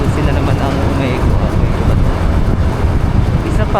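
Heavy wind buffets an outdoor microphone in a loud, continuous low rumble with gusty fluctuations, and a person speaks over it.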